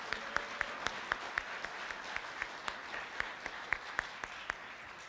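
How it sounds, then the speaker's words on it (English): Scattered, fairly quiet clapping from a small audience honoring senior student speakers, with individual sharp claps standing out clearly from the soft overall patter. "Let's give our speakers one more round of applause."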